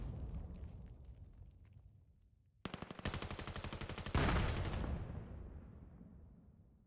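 Gunfire and a grenade blast in the VR shooter VAIL: a rapid burst of automatic fire, then a louder explosion that fades out over several seconds, all moderately quiet in the mix.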